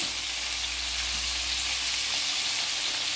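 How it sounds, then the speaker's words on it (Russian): Bell peppers frying uncovered in a pan, salted and stirred, giving a steady, close sizzle with a constant hiss throughout and no talking. "И обжариваем 8-9 минут."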